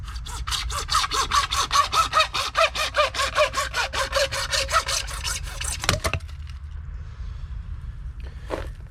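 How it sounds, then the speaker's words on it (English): A hacksaw cuts through PVC pipe during a pump pressure repair, making rapid rhythmic back-and-forth rasping strokes for about six seconds, loud and close, followed by a sharp snap and quieter handling. "I should have been a little more careful when I was hacksawing this"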